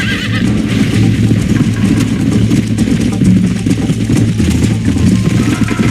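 A horse whinnies loudly over a steady clatter of hooves and a low engine-like rumble in the video game Red Dead Redemption, all close and continuous.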